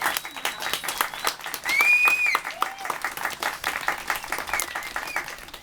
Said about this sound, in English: Can we have one more round of applause for our graduates?